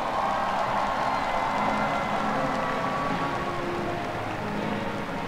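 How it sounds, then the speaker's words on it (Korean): A large stadium crowd applauds and cheers at a baseball championship trophy ceremony, a dense, steady wash of clapping and crowd noise that carries on throughout without a break. "큰 박수 부탁드리겠습니다"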